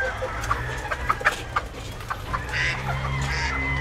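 Chickens clucking on a farm range, several birds making short clucks and calls close by over a low steady hum, with no talking.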